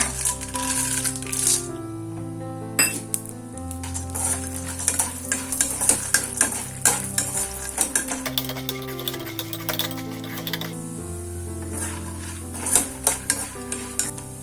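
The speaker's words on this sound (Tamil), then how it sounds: "அதே ஆயில்ல நம்ம 1 கப் வேர்க்கடலை பொரிச்சிடலாம்" Peanuts deep-frying in hot oil for a quick cornflakes mixture snack, with steady crackling sizzle, frequent clinks of a ladle and pan, and bursts of stirring throughout, fairly close and loud with no talking.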